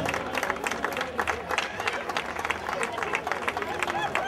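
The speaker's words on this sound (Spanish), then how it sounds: "Fuerte aplauso para este podium de veteranas." Crowd applause for the women's veterans podium at a popular night race awards ceremony, dense continuous clapping close by, with a voice talking over it.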